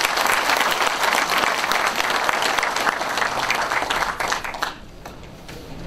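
Loud, sustained applause from a large crowd at a book concert in Jeonju, dense and steady, fading out near the end.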